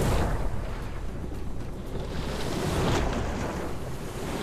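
Large ocean waves roll and crash near a sandy shore in a continuous, loud wash of surf mixed with gusting wind buffeting the microphone, with no voices.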